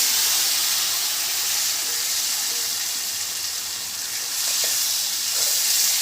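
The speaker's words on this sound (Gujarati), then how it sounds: "તો મિત્રો આ રીતનો વઘાર કરવાનો હવે કઢીનો" Hot oil tempering with curry leaves for Gujarati kadhi hisses and sizzles loudly and steadily throughout, a dense close-up crackle without a break.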